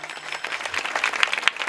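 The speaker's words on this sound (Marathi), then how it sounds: "जरा जोरात टाळ्या वाजवा." An audience at a kirtan clapping, a short burst of dense, fairly loud applause from a crowd of hands.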